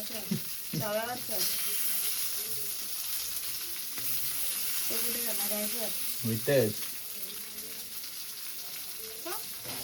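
Chicken pieces fry in a pan of hot oil at home, giving a steady, close sizzle and hiss throughout, with bursts of voices talking over it.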